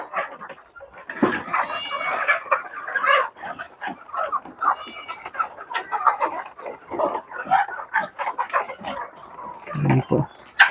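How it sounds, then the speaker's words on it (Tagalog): Chickens and goats on a farm call out at morning feeding, with bleats and clucks overlapping in frequent close bursts and a few louder cries. "Sama na manok at saka kambing."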